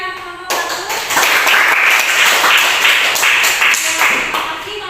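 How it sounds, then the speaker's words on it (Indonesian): A class claps for a presenting student discussion group after their talk on nature conservation areas in South Kalimantan. Dense, steady clapping from a small room starts after a brief pause and runs close and loud to the end. "Kita beri tepuk tangan yang meriah dulu ya kelompok 1."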